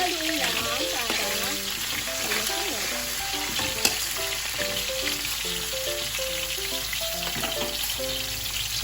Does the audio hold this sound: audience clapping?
no